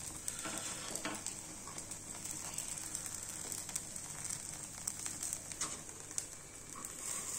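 Ponganalu (paniyaram) frying in a pan with a steady close sizzle as the pieces are stirred and flipped, with light scraping and tapping patter throughout.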